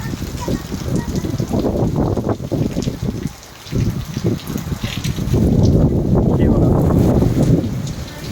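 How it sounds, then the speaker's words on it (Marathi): Heavy rain in Shegaon pours in a dense, continuous roar that eases briefly, then surges louder again, with wind buffeting the microphone. "पावसाचे जोरदार आगमन झाले आहे"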